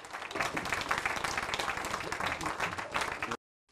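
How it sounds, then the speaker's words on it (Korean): A room of party lawmakers applauds to congratulate a newly elected committee chair candidate, dense sustained clapping that stops abruptly into silence. "뜨거운 박수로 축하 인사를 해주시기 바랍니다."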